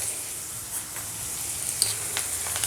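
Boti, goat tripe, fries in a pan for a curry, producing a soft, continuous sizzle with faint crackles throughout and no voices.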